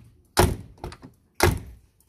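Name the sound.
car door of a 1999 Mitsubishi Kuda diesel shutting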